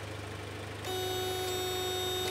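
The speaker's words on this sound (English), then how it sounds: "the buzzer to tell you you've left the lights on works" A car's headlights-left-on warning buzzer in a classic 1980s Opel Coupe sounds suddenly and continues as a steady, piercing tone over a low engine hum.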